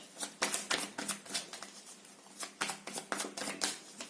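Oracle cards being shuffled by hand, a quick series of crisp riffling and flapping bursts in an uneven rhythm, close and fairly soft, with no voices.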